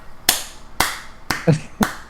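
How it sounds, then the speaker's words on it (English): Five sharp hand claps ring out alone at a slow, even pace, roughly half a second apart, close and crisp. "Slow clap."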